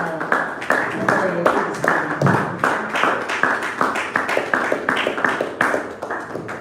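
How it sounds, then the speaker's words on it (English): A round of applause for a leadership and entrepreneurship director at a business fireside chat, scattered claps forming a steady, fairly close patter throughout with voices murmuring underneath. "So please, a round of applause."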